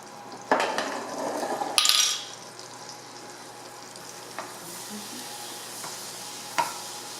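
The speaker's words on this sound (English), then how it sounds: "We're just kind of lightly browning it and making sure that the flour is mixed in well with the butter" Flour lightly browning in butter in a pan for a chicken pot pie roux, with a few sharp scrapes and clinks of stirring over a soft, steady sizzle that fades to a quiet hiss with occasional taps.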